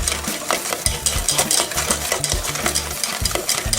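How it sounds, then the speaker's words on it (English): Lemon curd of eggs, sugar, lemon zest and a pinch of kosher salt whisked over heat, fast, rhythmic, loud and close whisk strokes against the bowl, steady throughout with no talk. "We're just going to keep whisking over."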